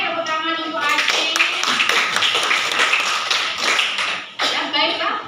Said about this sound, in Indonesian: tepuk tangan untuk Aceh